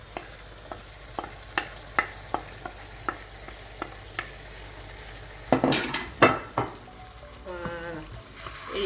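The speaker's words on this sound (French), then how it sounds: "je vais rajouter l'ail haché" Chopped garlic added to vegetables frying in a pan for red curry with coconut milk and shrimp: a regular series of sharp spoon taps against the pan, then louder scraping stirs over a soft sizzle.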